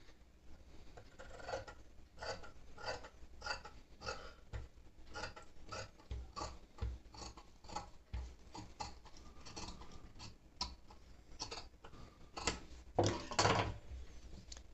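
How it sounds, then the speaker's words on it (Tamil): Scissors cut blouse fabric along a round neck pattern in a quiet room, giving a long run of soft, rapid snipping strokes at close range, with a louder burst of cuts near the end. "இப்போ இந்த ரவுண்ட் ஷேப்பில் அப்படியே நம்ம கட் பண்ணிக்குவோம்."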